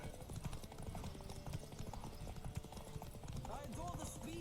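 Horse hooves clip-clopping at a fast gallop in the video game The Witcher 3, a steady drumming rhythm running under continuous talk and game music.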